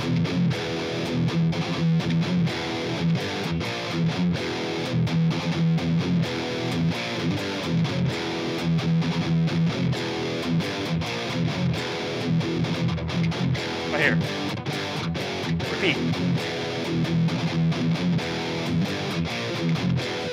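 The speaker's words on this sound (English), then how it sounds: "So that's the main riff of the song that you're going to hear" Distorted electric guitar chugging the main riff of a song, a steady driving palm-muted rhythm throughout, fairly loud with a voice speaking briefly over it.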